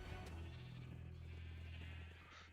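A sheep bleating in the video game Minecraft with the GregTech New Horizons modpack, a single drawn-out bleat over a steady background hum, close and fairly loud.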